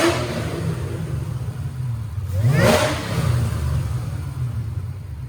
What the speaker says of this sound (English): I watched a dyno pull earlier. I'm going to show you that